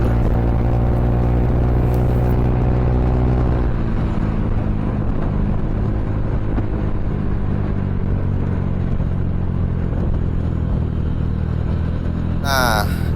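Honda Beat LED scooter fitted with mixed 11 and 13 gram CVT rollers, its engine droning loudly and steadily as it pulls away under throttle, close to the microphone with wind and road noise throughout.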